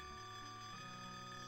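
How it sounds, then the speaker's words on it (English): Alarm bells in the Death Gate video game, a continuous, dense metallic ringing with layered tones that stays steady and quiet throughout, without any voices. "wake up the dwarf with the alarm bells, and endure this really annoying ringing sound"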